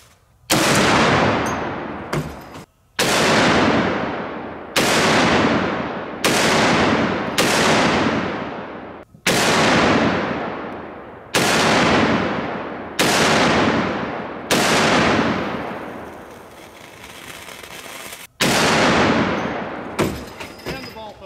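A .50 BMG rifle fires repeatedly at a 150 lb slam ball outdoors, with about ten loud, sharp shots spaced a second or two apart, each followed by a long ringing echo that decays before the next round.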